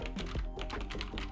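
Rapid typing on a budget gaming keyboard, crisp close key clicks in a quick uneven rhythm with no voices.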